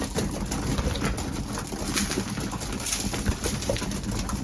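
Racing pigeons cooing in a loft, a soft continuous murmur of low coos and rustling, fairly close and steady with no talking.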